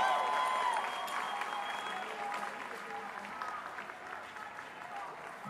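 A crowd at a ceasefire march and rally outside the U.S. Mission to the UN applauds steadily, a dense wash of clapping and cheering with voices mixed in.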